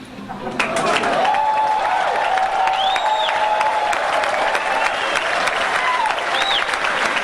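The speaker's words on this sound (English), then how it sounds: "The applause tells the entire story here." Loud, sustained applause from a large audience at a 1995 Sony PlayStation $299 price announcement, dense clapping that swells quickly and holds steady, with a few whoops and voices mixed in.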